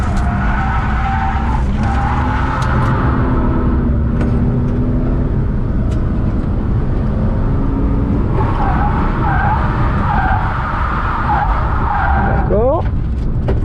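A rally car skids through laps on a track while its engine drones loudly, with tires scrubbing and changing engine pitch. People talk over the car the whole time.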